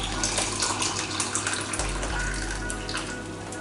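Hot water runs steadily into a cooking pot for rice, a continuous gushing pour like a filling tap, close and even in level for several seconds with no talk over it.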